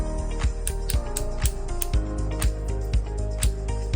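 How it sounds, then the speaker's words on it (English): A steady series of crisp clicks from spring tension adjustment on a Drift 3M Plus v2 MagLev 3x3 speed cube, about two per second, close and quiet, with a low hum underneath. "each time you hear a click, the spring gets tighter."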